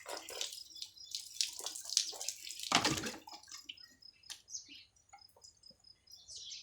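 Water poured over tripe while washing it, splashing in short uneven bursts with one heavier gush, close by, among faint bird chirps in the background.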